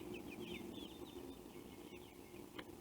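Backyard chickens raised on regular chicken feed cluck softly in a steady, continuous murmur, with a brief sharper call near the end.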